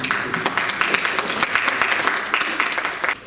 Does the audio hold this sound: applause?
yes